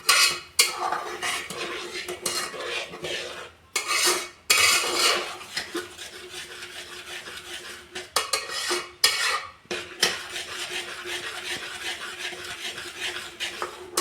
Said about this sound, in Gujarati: ગેસ ઉપર એને નથી મૂકવાનું, આપણે નીચે જ રાખીને સરસ આવી રીતે હલાઈ કરીશું